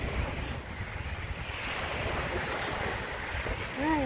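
Sea waves wash steadily onto the shore at Pandan Island beach, a broad continuous surf roar with wind buffeting the microphone, ending with a short high whistle-like tone.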